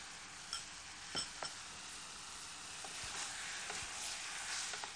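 Chicken sautéing over high heat with Kolhapuri chutney, a fairly faint, steady sizzle broken by occasional soft clinks and taps of stirring.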